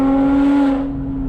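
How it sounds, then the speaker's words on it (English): A Porsche Boxster flat-six with its valved exhaust open screams under hard acceleration, a loud, steady high-pitched howl that eases off near the end. "With the sprint booster on the highest setting and the valved exhaust open, she is a screaming monster."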